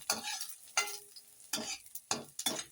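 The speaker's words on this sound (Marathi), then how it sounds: "लालसर पण कांदा चांगला फ्राय झालेला आहे" Onions frying to a reddish brown in a pan, with a spoon scraping and stirring in several distinct bursts, close and fairly loud, separated by brief quiet gaps, no voices.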